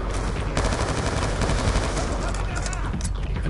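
Rapid, dense machine gun fire in Call of Duty Black Ops 2 rattles continuously in a loud burst, with heavy booming shots layered throughout.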